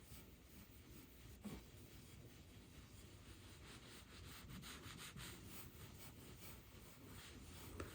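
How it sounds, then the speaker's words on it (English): A rag rubs back and forth over a water-stained wood surface, a faint continuous scratchy friction with a few soft knocks, very quiet and close. "in the affected area I'm going ahead and rub it."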